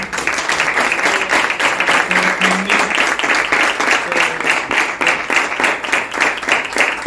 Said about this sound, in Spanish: yo creo que se merece un fuerte aplauso